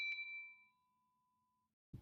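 Notification bell sound effect: one bright, clear ding that rings out and fades slowly over more than a second, faint overall, followed by a brief low rustle at the end.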